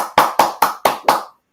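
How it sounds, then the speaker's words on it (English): Five sharp, evenly spaced hand claps, loud and close, at a comedy workshop show, sounding like one person rather than a full audience, then silence. "let's give another round of applause for Lucy"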